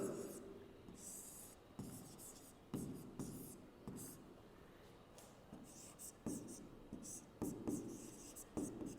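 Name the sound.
writing on a board during a lesson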